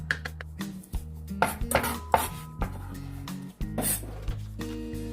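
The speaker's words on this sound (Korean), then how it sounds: "먼저 양파를 잘게 다져주세요" Knife finely mincing onion on a board, a fast, uneven run of close, crisp chops with occasional clinks of the blade and bowl, nearby and alone without talk.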